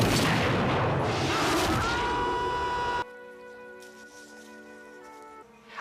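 A gunshot from the film Warlock: The Armageddon comes as a loud, sustained booming blast with a rumbling tail, then cuts to quiet ringing tones.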